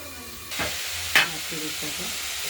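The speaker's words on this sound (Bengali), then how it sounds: "আমরা মটর ইয়ে ফুলকপিটা একটু নাড়াচাড়া দিয়ে দিলাম" Chopped cauliflower and peas frying in a wok, a steady sizzle with a couple of brief scraping stirs of a spatula, close and fairly quiet, with no talk.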